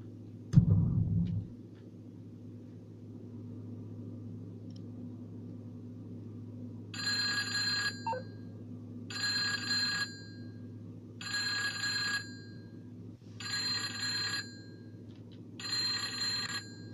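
Phone ringing inside the video game GTA 5 Online: five evenly spaced bright ring bursts, each about a second long, over a steady low engine-like hum, with a brief thud near the start and no speech.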